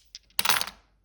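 Small astrology dice dropping onto a hard surface, a faint tick followed by a brighter cluster of clattering bounces that settle quickly, close and quiet.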